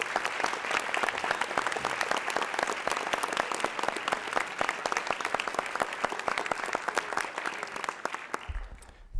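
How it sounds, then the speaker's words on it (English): Sustained audience applause fills a city-county council chamber, a steady dense patter of many hands clapping at even loudness before cutting off abruptly at the end. "so we could give them a round of applause"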